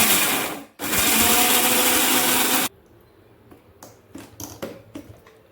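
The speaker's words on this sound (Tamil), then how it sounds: "மிக்சியில் போட்டு மிக்சியை மூடிடுவோம். இன்னும் அரைச்சிடுவோம்." An electric mixie grinds raw mango chutney in a loud, sustained whir lasting about two seconds after a brief pause, then cuts off, leaving faint clicks and handling noises.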